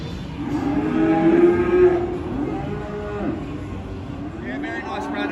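Feeder cattle bellow in a long, loud moo at a saleyard cattle sale in Moss Vale, with faint crowd noise and another lowing call toward the end.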